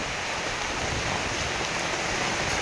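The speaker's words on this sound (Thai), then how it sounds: "ฝนมาแล้วพี่น้องฝนมาแล้ว" Heavy rain falls steadily outdoors in rural Thailand, a dense, loud, continuous hiss of drops striking surfaces, with no voices.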